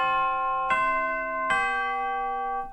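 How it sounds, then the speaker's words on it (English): Tubular bells sample played on a Nord Stage 3 keyboard, three clear bell strikes in sequence with bright ringing overtones that sustain and overlap, close and prominent with no talk. "What's in there? Tubular bells."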